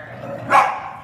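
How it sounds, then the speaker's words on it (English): A dog gives one short, sharp bark, close and loud, with no other sounds around it. "What a good dog, Heida."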